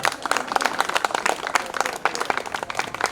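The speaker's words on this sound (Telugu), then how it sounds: "తల్లిదండ్రుల కోసం అందరూ ఒకసారి టాప్లు వేసిపోయేలా గట్టి చప్పట్లు." Audience at a tutorial centre's annual day celebration gives a steady burst of applause for the parents, dense overlapping claps from a sizeable crowd filling the hall for several seconds.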